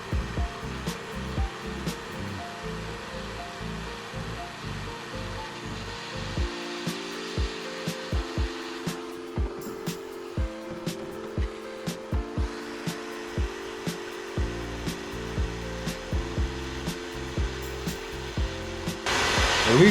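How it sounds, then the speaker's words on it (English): A steady grinding, cutting whine runs close and loud the whole time, broken by regular short knocks, as welds are cut on the passenger-side cab of a 1949 Jeep Willys pickup. "we're probably going to have to cut these welds."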